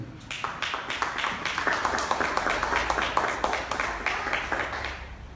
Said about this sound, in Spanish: Denle un aplauso así